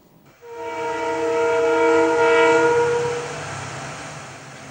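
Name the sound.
Kerala Express passenger train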